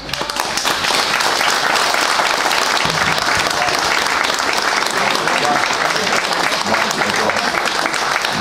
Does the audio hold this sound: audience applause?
yes